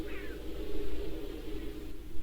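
A cat meows briefly near the start, a short rising-falling cry over a steady background hum.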